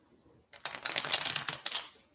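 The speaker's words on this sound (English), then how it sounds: "I'm just going to take a moment to shuffle these up for you," A deck of tarot cards being shuffled during a live reading, a dense run of crisp papery riffles and flutters lasting about a second and a half, close and clear after a short silence, with no talk.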